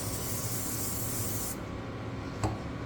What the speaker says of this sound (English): what I do is I just spray these over